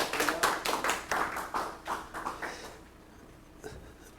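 A small audience at an academic forum claps in a brief round that fades out, the individual claps distinct and fairly quiet, with a few scattered claps at the end.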